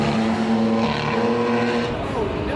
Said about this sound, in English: gonna be blasting by here in 2 race cars in a second